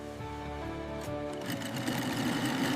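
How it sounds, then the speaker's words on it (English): A sewing machine stitches a premium leather musical instrument case, its motor hum and rapid needle rhythm running continuously and fairly close, with the pitch and texture shifting partway through. "Precision stitching begins forming the strong outer structure of the premium case."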